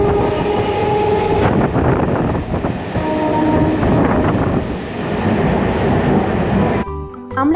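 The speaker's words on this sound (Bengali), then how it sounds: "দূর থেকে দেখতে পেলাম ট্রেন আসছে।" A train pulls in near Kolkata with a loud, close rumble and rattling wheels. Sustained horn tones sound near the start and again midway, and the sound ends in a burst of clattering.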